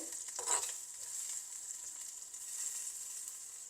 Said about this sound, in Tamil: எல்லாம் பொறிஞ்சு வதங்கி கொண்டு வருது